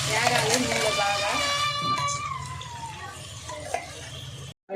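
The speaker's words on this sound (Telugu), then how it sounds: "మసాలా అయితే వేగాలి నూనెలో బాగా." Masala of ginger, coconut and onion frying in oil for chicken pulao, a steady sizzle with stirring clatter under nearby talk, briefly cutting off near the end.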